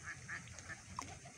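Honking goose calls at a pond alongside other waterfowl, a few short bright cries spread over a moment outdoors with steady background noise, fairly close.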